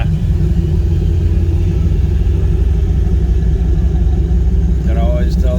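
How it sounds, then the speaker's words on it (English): A small-block Chevy V8 at a classic car cruise rumbles steadily and loud at close range, a deep continuous low growl with people talking over it throughout. "You can always tell that small black Chevy sound."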